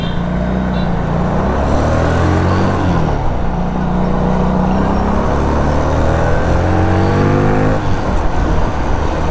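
A Fekon Victorino 250i V-twin motorcycle pulls away in first gear, its engine note rising gradually through loud, close rumbling revs, with rising and falling harmonic sweeps and a brief shift partway through.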